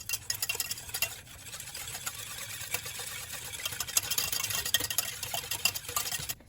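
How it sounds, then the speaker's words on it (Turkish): Cake batter is stirred right after milk is added, for a no-bake cat's tongue cake, making a continuous scraping, slightly ticking sound of utensil against bowl, close and steady throughout. "Sütümüzü ekledik. Şimdi tekrardan karıştırıyoruz."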